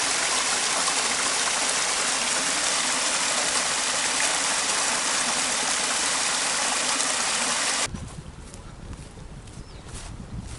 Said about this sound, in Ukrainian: Тут впадає то джерело, з якого ми почали обстеження.